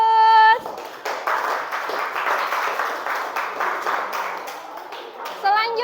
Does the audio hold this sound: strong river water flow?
no